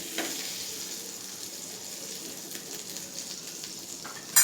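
Green chillies dropped into melted butter in a pan give a quiet, steady hiss of sizzling that stays even throughout, with a brief louder rustle at the very end.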